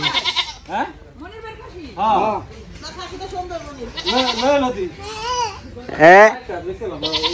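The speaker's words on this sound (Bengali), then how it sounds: "সুন্দর হয়েছে তো খাসিটা, বড় আছে কিন্তু" A goat being bought at a market for a festive occasion bleats loudly and repeatedly, several wavering cries close by, with people talking around it.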